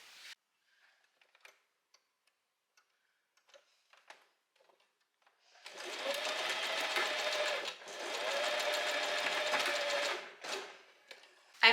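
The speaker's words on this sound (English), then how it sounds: "And now we can start sewing." A sewing machine stitches black fabric with polyester thread for a little black dress, running in two fast, whirring bursts back to back after a stretch of faint clicks and handling noises.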